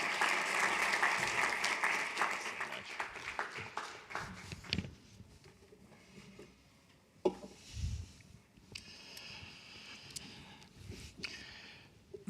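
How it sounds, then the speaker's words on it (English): Conference plenary audience applauding a speaker coming on stage, dense clapping for about five seconds that fades into scattered claps, shuffling and a few thumps. "please join me in a very warm round of applause"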